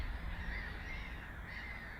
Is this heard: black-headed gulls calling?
yes